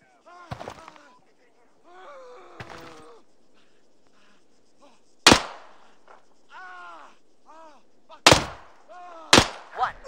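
Gunfire during combat: several loud, sharp shots, some single and one closely spaced pair, crack out between agitated shouting voices near the microphone.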